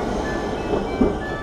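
A train rolls through a station with a loud, low rumble and faint rail clatter, steady and close, with a brief bump in loudness near the end.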